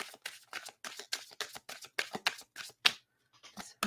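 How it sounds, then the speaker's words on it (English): Tarot cards shuffled by hand in a steady run of soft, papery riffles and slaps, about a dozen quick bursts close up, then a brief pause before a few more. "So let's go ahead and shuffle this up."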